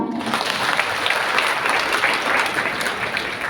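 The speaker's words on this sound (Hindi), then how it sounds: "अपने लिए ताली बजाओ" A crowd claps steadily and loudly for a few seconds, dense applause without pauses.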